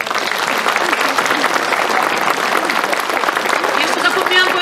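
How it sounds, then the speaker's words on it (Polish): Concert audience in Chudów applauding a folk music and dance performance, a dense, steady wash of clapping from many hands lasting throughout, loud and continuous. "Proszę o brawa."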